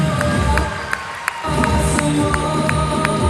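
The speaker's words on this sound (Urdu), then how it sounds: "آپ کی بھرپور تالیاں خواتین و حضرات" Large crowd at a Pakistan Prime Minister's laptop scheme ceremony claps and cheers steadily, a loud continuous roar of applause with a brief dip midway, music or tones running underneath.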